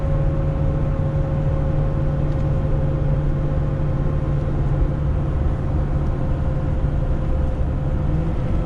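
A heavy-haul truck's engine labours steadily as it slows on a climb in 8th gear with cruise set to 102, a constant low drone with a steady tonal hum running unbroken and close throughout.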